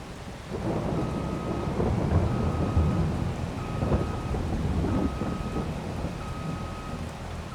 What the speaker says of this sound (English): And of course it had to be raining today.